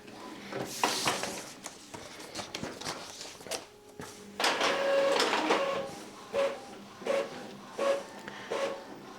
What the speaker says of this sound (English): And is printing on standard quality